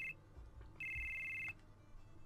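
A phone ringtone in the video game Final Fantasy VII, two short bright electronic trills, the second longer, over quiet low background hum with no talk.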